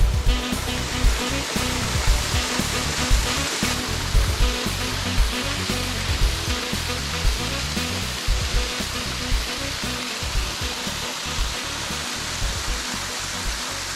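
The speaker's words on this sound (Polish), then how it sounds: "Operacja oględzin wodospad zbliża się." Steady, dense roar of a waterfall fills the whole clip, a broad rushing wash with no voices, loud and close.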